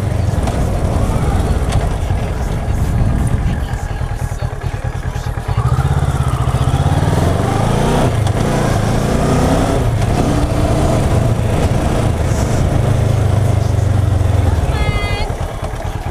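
A motorcycle ridden by a learner at around 60 km/h, its engine droning loudly and steadily with a rising note mid-ride, heavy wind rumble throughout and a voice talking over it.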